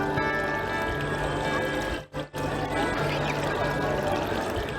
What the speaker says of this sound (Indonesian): Sekilas air terjun ini sejuk asri dan tak berbeda dengan air terjun di alam.